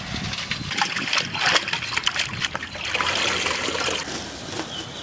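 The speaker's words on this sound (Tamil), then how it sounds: "அரிசி ஒரு தடவை கழுவிட்டு ஒரு 1 hour ஊற வச்சு எடுத்துக்கலாங்க" Rice being washed in water, with splashing, trickling and sloshing close by, a steady wet churning that keeps going for several seconds.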